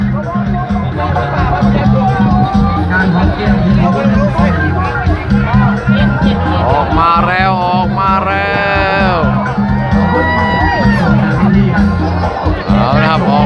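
Spectators pack the banks of the Mekong River at Chanumon, Amnat Charoen, cheering a men's longboat race with a loud, continuous roar and chatter. A commentator talks over the crowd throughout.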